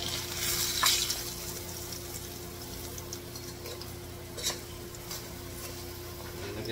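Fish frying in a pan of oil, a steady close sizzle with faint crackles and a few light clinks of a utensil or dish, with no talking.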